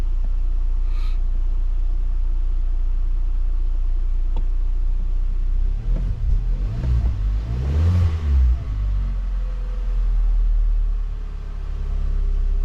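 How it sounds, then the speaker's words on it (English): A 2020 Hyundai Veloster 2.0 engine runs with a steady low rumble, briefly revving higher in the middle before settling back to a smooth idle under 1,000 RPM. "So far so good. Engine sounds good."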